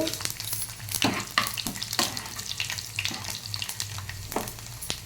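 Garlic, cumin and coriander sizzle in hot oil for a dal tempering, a steady close frying crackle broken by sharp spatters and the scrape of stirring, with no talk.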